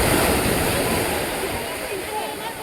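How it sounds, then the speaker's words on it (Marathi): Sea waves surge and break steadily on Devghali Kasheli Beach near Ratnagiri as the high tide comes in, a continuous broadband wash of surf heard close with wind noise over the microphone. "लाटा बघू शकता तुम्ही. आता भरतीचा टाईम चालू झालेला आहे त्यामुळे मला वाटतं लाटा जास्त वाढल्यात."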